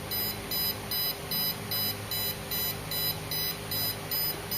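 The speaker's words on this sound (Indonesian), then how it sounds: "buzzer dan LED-nya akan hidup dan buzzernya akan berbunyi" An Arduino buzzer on a railway crossing gate model beeps in a steady repeating pattern, about ten short high-pitched pulses with a low background hum underneath.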